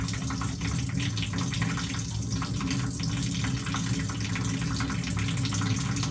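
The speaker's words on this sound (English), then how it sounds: "So before returning the soap to the dish, we should rinse it to remove any microorganisms." A bar of soap is rinsed under a running tap during a medical handwashing routine, with a steady, close splashing stream of water pouring into a sink throughout.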